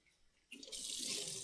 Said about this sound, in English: Wring it out, and that water's clear.